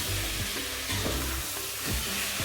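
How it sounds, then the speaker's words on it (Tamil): Onions and tomatoes fry in a pan for brinjal gravy, a dense close sizzle with intermittent scraping strokes of a spoon stirring through the mixture. "பாருங்கள் வெங்காயம் நல்லா வதங்கிச்சு. இப்போ தக்காளி போடுங்க."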